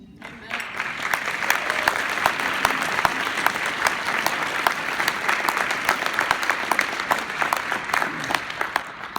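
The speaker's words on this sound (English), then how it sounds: "Please stand up, sir, so we can applaud you." An audience applauds steadily, a dense wash of many hands clapping that keeps up for several seconds.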